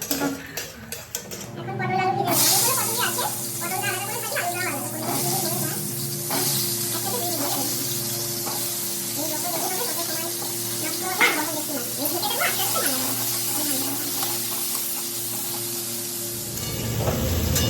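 Potol (pointed gourd) and potato frying in a pan, a steady close sizzle running throughout, with occasional stirring and scraping against the pan.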